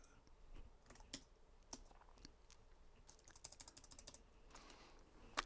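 Soft, quiet keyboard typing with irregular clicking keystrokes, faster in a short burst near the end, with no talking.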